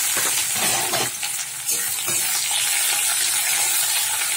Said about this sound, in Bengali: দিয়ে এই যে নেড়ে চেড়ে নিচ্ছি, পেঁয়াজটা ভালো করে ভেজে নেবো